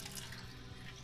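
A water bottle being filled, with a faint, quiet stream of running water trickling steadily throughout.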